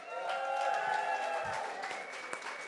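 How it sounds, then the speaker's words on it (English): Audience at an art auction clapping and cheering, a steady wash of applause with scattered voices, moderately loud and sustained throughout. "clap for those incredible people upstairs"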